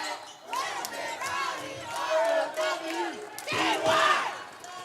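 A crowd at a high school boys' basketball game chants and cheers with cheerleaders, rhythmic shouted chants rising and falling, with a ball bouncing on the court underneath.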